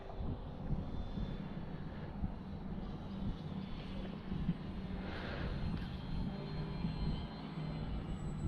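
A V-22 Osprey tiltrotor aircraft flies far off on a windy day, a distant, steady jet-like roar and rumble that stays faint and constant, mixed with wind noise.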